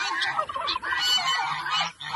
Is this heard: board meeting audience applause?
no